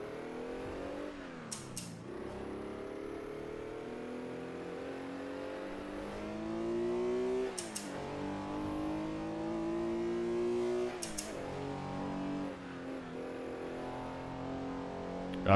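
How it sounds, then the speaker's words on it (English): A WSC Legends race car in Assetto Corsa revs and accelerates with a carbureted engine note. The pitch climbs and drops between sharp gear shifts, and the engine stays loud and continuous. "carburetor suction sound"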